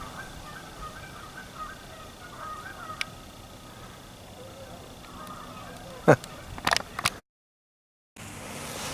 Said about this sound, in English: I hope it's catching the sound of those geese.